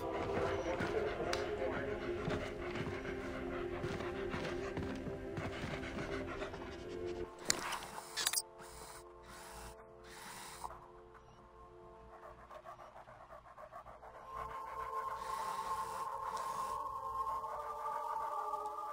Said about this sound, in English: So gotta take the dog down non-lethally.